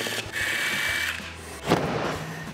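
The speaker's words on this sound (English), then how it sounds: "And start removing the fasteners." A power drill whirs while removing fasteners from a Coleman pop-up camper's storage box, with a sustained high spin of about a second, then a short burst and a brief second run nearby.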